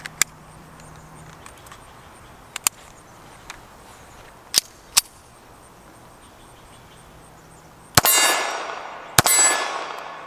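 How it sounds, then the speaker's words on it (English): A Beretta 1934 pistol fires at steel targets, sharp single shots spaced irregularly with ringing metallic clangs, and the last two reports boom louder with long echoing tails. "Let's do a little more shooting"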